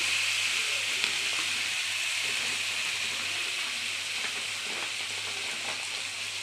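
Rice and lentils with turmeric frying in a pan, a soft, steady hiss and sizzle throughout with faint crackles.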